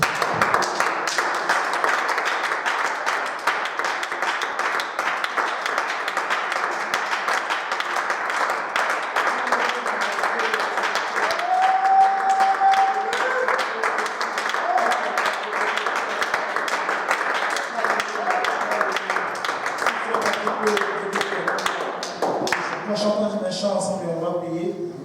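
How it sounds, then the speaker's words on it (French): A church congregation claps and cheers together to acclaim the Lord, dense sustained applause with crisp hand claps filling the room for the whole stretch, tapering near the end. "Est-ce que nous pouvons acclamer le Seigneur ensemble?"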